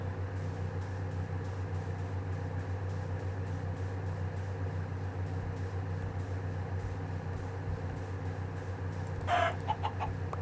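A chicken in Minecraft Beta 1.8 gives a short, faint burst of clucks near the end over a steady low background drone.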